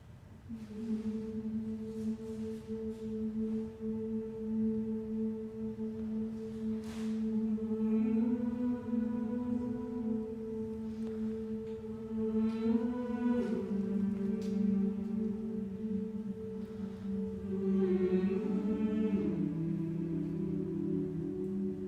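Several voices sing together in sustained harmony, holding long chords that shift slowly, with no talking over them.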